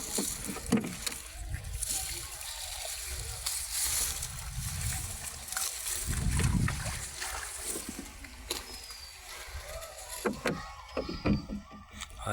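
A wooden rowing boat laden with water spinach moves across a village waterway, its oars knocking and splashing in an uneven rhythm while water sloshes against the hull.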